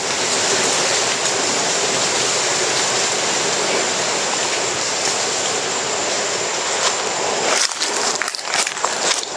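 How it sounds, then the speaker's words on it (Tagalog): A steady, loud rush of wind roars without pause, with a few brief rustles and knocks near the end. "Lakas ng hangin"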